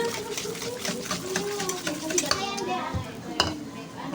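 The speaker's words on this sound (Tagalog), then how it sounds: "Haluin ng haluin." Cupcake batter stirred in a bowl, with repeated close scraping and knocking of the utensil against the side, under faint voices.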